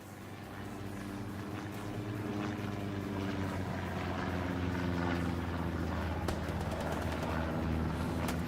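In the Hell Let Loose video game, a recon plane drones overhead, its propeller engine a steady humming rumble that swells slightly louder as it passes, with no voices heard.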